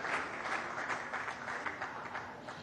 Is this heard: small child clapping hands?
yes